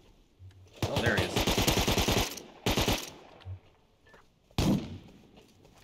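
Rapid automatic gunfire in the survival game Rust, two long loud bursts of evenly spaced shots, then a pause and a single heavy blast near the end, with quieter gaps between.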